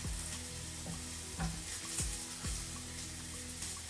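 Onions frying in a generous pour of olive oil, a lively close sizzle with a few stirring knocks against the pan.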